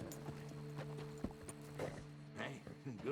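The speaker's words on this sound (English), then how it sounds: "Hey, good looking horse there." A horse in Red Dead Redemption 2 clip-clops with steady hoofbeats close by, and a whinny comes near the end, faint under a voice speaking over it.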